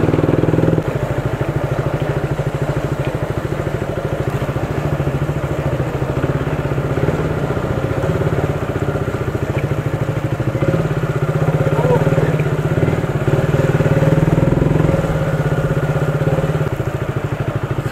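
A motorcycle idles during a solo morning ride, a steady, close, even putter lasting throughout, with faint voices now and then.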